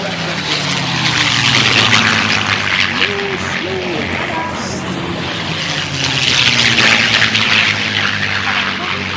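A P-51 Mustang flies past at the Flying Legends air show at Duxford with a loud, continuous propeller-engine drone. The roar swells and ebbs slightly as it passes, against the open-air noise of the crowd.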